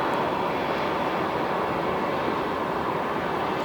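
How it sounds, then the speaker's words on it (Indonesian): Mount Lawu's volcanic crater gives a steady, dense rumbling roar, continuous and unchanging like distant jet noise, heard from the Cemoro Kandang hiking trail. "Nah itu adalah suara kawah Gunung Lawu."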